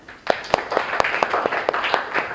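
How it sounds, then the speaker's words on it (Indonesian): A small group of students claps in a class meeting, a short burst of distinct, fairly close handclaps in an uneven rhythm that starts abruptly and carries on for a couple of seconds. "Tepuk tangan"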